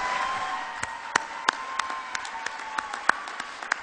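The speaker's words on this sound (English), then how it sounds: "Clap for them." Sparse, scattered hand claps from a small audience at a benefit event, about a dozen sharp claps at uneven intervals, fairly close, with no talking.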